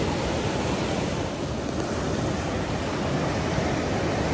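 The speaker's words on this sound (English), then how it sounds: "Waves are a little bigger than normal for here at Brook Street" Ocean surf breaks continuously at Brooks Street Beach in Laguna Beach, a dense, steady wash of waves with some wind noise on the microphone, close and loud with no voices.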